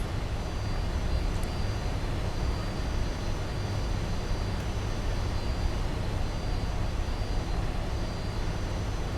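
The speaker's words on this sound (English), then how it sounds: "we're just going to pull into one of the gates here, so taxi light can come off." A Fokker F28-4000 jet airliner on a Piedmont Airlines flight taxis to the gate. A steady, dense engine roar and whine fill the cabin without letup, with a faint high tone running through it.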